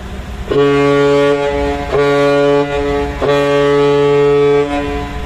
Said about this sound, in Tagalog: Magandang busina. Malakas.